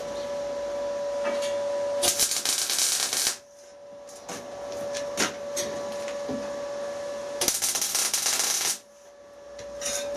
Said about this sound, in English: so these two back corners and weld it out